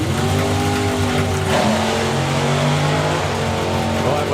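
A supercharged big block drag racing car runs at a drag strip, its engine roaring loudly and steadily with a harsh, dense tone throughout, close and dominant.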